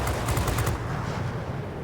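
Rapid 30 mm cannon fire from a warplane in World of Warplanes, a quick burst of dense, fast rhythmic thuds over a steady low engine drone, with no voices.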